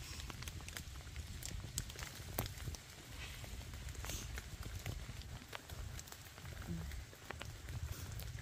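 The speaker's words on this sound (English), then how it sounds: "hiking in the rain." Rain falls on the Appalachian Trail in southern Virginia, a steady soft patter with scattered sharper drops and taps close by, with no one speaking.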